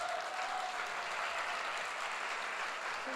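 A church congregation claps together during a Sunday service, a steady, even wash of applause from a room full of people that carries on without pause.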